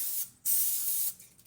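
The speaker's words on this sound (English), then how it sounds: "Make sure you spray it with Pam." Pam cooking spray is sprayed into a 9x13 casserole dish in two close, loud hissing bursts: a short one, then a longer sustained spray, with a brief gap between them.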